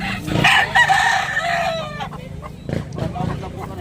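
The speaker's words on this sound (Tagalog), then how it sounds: "Manok ni Bossing." A gamecock clucks and squawks loudly up close, followed by softer clucks, with some background murmur.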